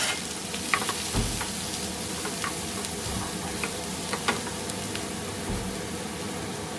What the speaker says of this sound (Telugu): ఈ సన్నగా తరిగిన ఆనియన్స్ని కూడా వేసేసి ఒక్కసారి బాగా కలుపుకొని